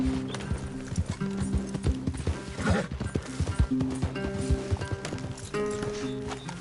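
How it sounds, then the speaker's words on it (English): Horse hooves clip-clop in uneven, hollow knocks over background music in the video game Red Dead Redemption 2, with rustling and a few louder thuds mixed in. "Leave the horses in the trees there."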